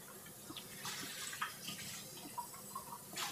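Tap water runs over cooked octopus as it is rinsed at a kitchen sink, a faint, steady splashing with small bursts and drips as it is handled.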